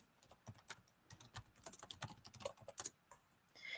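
Fingers type rapidly on a computer keyboard, a close, quiet, irregular stream of key clicks with brief pauses.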